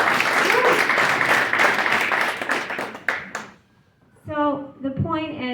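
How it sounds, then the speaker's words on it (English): An audience at a political gathering celebrating an election win claps and cheers in a dense burst of applause for about three seconds, then it cuts off and after a short pause a voice begins speaking. "Let's give him a round of applause."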